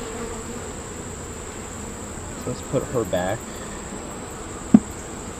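Honeybees hum in an open hive while a frame is worked: a steady close buzz runs throughout, with a person speaking briefly and a sharp knock near the end.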